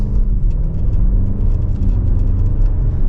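A 2024 Audi S8 sedan with its 4.0-litre twin-turbo engine pulls away under acceleration, a steady, loud low rumble and whir filling the cabin continuously with no talk.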